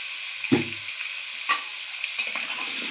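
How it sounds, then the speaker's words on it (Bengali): Mutton sizzles in a pan with turmeric and salt, a steady frying hiss broken by a few stirring scrapes. "ভালো করে ভেজে নেব।"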